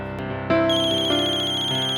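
A mobile phone ringtone plays a bright electronic melody, steady and fairly loud, starting after a brief moment of quiet.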